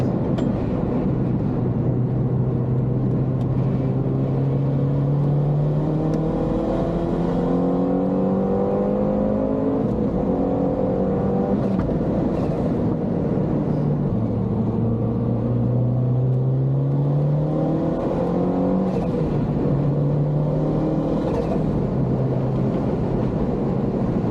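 A MINI Cooper S with an HKS exhaust drones loudly and continuously while accelerating on a track, its engine note rising and dropping through repeated gear changes, recorded from inside the car with no talking.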